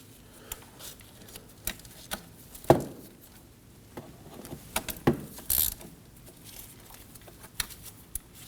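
Ratchet clicking in short bursts while 17mm knuckle bolts on a 2003-2006 Subaru Baja front hub are loosened, with scattered metallic clicks and knocks, close and fairly quiet, no voices.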